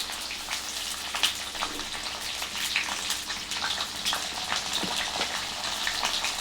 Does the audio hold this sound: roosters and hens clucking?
no